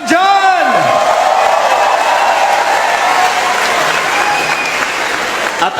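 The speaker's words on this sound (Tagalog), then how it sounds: "Isang malakas na palakpak naman dyan!" A crowd at a Duterte Youth Party List political gathering breaks into loud, sustained applause mixed with whoops and cheers, with a voice heard briefly at the start.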